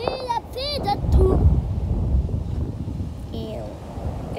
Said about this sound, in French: Et là le vent